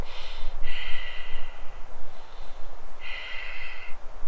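Deep, audible breaths during a power yoga pose, slow inhales and exhales heard up close with soft airy texture, two long breath cycles over a quiet background.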